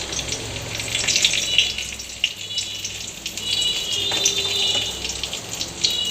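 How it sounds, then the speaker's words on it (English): Whole spices, cumin seeds and a bay leaf, sizzle in hot oil with a steady, hissing crackle full of small pops, close and fairly loud, and no one talks. "So when the oil gets heated, I am going to add the spices."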